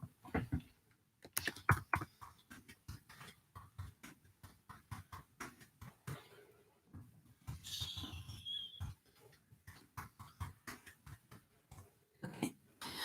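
Bursts of fast, close typing on a computer keyboard, clattering runs of keystrokes broken by short pauses, fairly quiet and with no talk.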